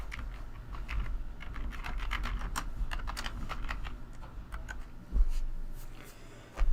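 Rapid clicking keystrokes on a computer keyboard, close and moderately quiet, typed in an uneven burst of taps with short gaps, alone without voices.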